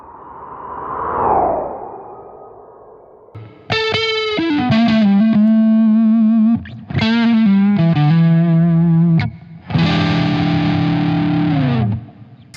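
Electric guitar lick through an effects pedal: a swirling swept tone opens, then bright sustained notes and bends ring out with heavy modulated, distorted shimmer, phrases separated by brief gaps, loud and alone.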